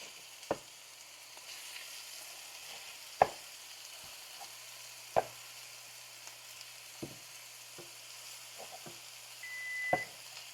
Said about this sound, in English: you kind of break this patty up into smaller pieces, flip them all around